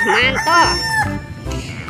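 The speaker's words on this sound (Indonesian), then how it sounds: "Yang ini ada ayam berkokok." A toy's recorded rooster crow rings out loud and close, one long rising-and-falling cock-a-doodle-doo with a short cluck-like tail, while a voice speaks briefly over it.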